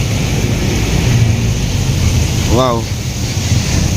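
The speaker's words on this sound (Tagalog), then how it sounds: "Ayan, nakikita nyo dito, nagtatalsikan po yung mga tubig, oh." Water from a drain splashes into a Divisoria river channel near Tondo, a continuous rushing wash close to the microphone; a single voice briefly exclaims near the end.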